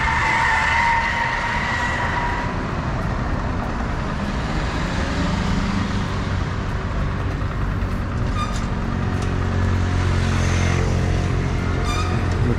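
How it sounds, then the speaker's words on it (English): Vehicles cross in front on a busy Amsterdam road, loud and close, with a continuous rushing roar and a long tonal whine as a heavy vehicle passes, and no talk over the traffic. "We have a little bit of cross traffic."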